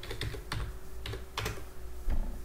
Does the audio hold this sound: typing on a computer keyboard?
yes